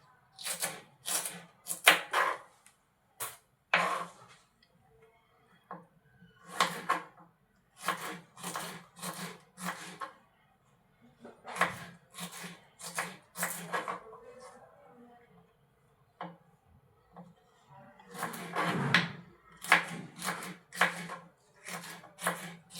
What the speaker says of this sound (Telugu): నా దగ్గర అయితే బెండకాయలు కూడా ఉన్నాయండి కొన్ని, వాటిని కూడా నేను కట్ చేస్తున్నాను